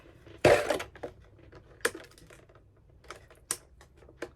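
Sharp snips from Pokémon-themed scissors and crinkling plastic packaging of a figure, close by, with one loud rustle followed by several scattered cuts.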